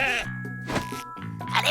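A goat bleats in short wavering cries on a cartoon soundtrack, several bursts close together, with light background sound between them.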